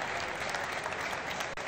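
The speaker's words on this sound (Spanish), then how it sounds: "un aplauso para José" An audience applauds a volunteer at a math-magic show, a dense steady wash of many clapping hands filling the short stretch without a break.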